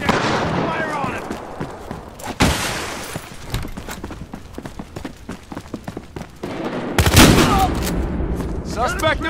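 Rapid gunfire crackles through a Battlefield Hardline shootout, with sharp repeated shots and heavier blasts, loud and close, while voices shout over the fighting.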